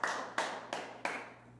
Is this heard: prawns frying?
no